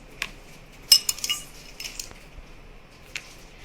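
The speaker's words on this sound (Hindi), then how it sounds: "इसमें हम डालेंगे खूब सारी बर्फ ताकि ये ठंडा और अच्छा लगे" Ice cubes clinking and clattering as they are dropped into a strawberry milkshake, a few bright, crisp knocks clustered near the start, then sparser light clinks, close and fairly faint with no talking.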